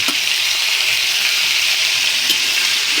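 Chicken feet in a hot pan, a loud, steady close-up sizzle and crackle of frying that holds continuously for a few seconds with no talking.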